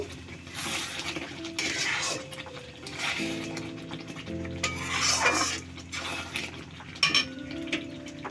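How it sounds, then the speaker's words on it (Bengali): A utensil stirs salted chicken in a pan, with scraping and clinking of cookware throughout, loud and close, while music with steady tones plays underneath. "আমি সামান্য পরিমাণ লবণ দেব দিয়ে একটু নাড়িয়ে দেব"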